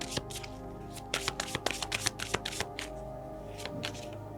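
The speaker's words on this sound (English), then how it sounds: "let's take out one more card." Tarot cards riffled and shuffled by hand, a quick run of crisp flicks and taps close up, then slower scattered card snaps as cards are drawn, with no voice over them.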